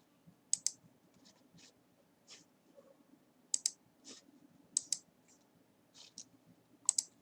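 Fingers type on a computer keyboard in short bursts of crisp clicks, a few keys at a time with pauses between, close and clear over a faint background hum.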